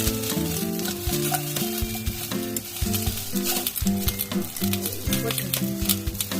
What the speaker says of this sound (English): Let's saute.